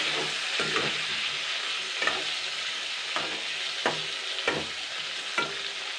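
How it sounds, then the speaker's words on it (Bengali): Pointed gourd (potol) fries with salt and turmeric in a pan, a steady close sizzle broken by about half a dozen scraping stirs of a spatula at irregular intervals, with no voices. "এবার নেড়ে চেড়ে নেবো এটা কিন্তু ভালো করে ফ্রাই করে নিতে হবে"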